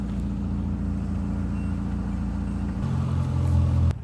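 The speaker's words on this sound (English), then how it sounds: "there's some road traffic" Outdoor road traffic on a cold day, with a steady low rumble of passing cars and trucks that swells louder near the end as a heavier vehicle goes by close.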